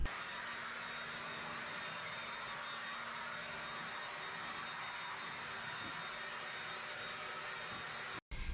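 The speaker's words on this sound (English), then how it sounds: "I'm going to start with blowing all the dirt and sand and bits and pieces" A handheld blower roars steadily and loudly inside an enclosed, hot catio, blasting dirt, sand and debris off the floor, running unbroken for several seconds before a brief cut-off near the end.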